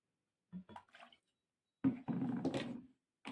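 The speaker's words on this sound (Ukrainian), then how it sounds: "банка і додаю водки грам 100" Vodka poured into a glass jar of about 800 grams, starting with a few short splashes and then a steady close gurgling pour lasting about a second, alone without any talk.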